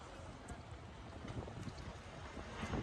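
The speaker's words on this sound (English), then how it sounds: "I am taking the ferry to the other side" A ferry crossing the water in Amsterdam gives a steady, broad rumble of engine and water, mixed with buffeting wind noise on the microphone, continuous and moderately loud with no talk.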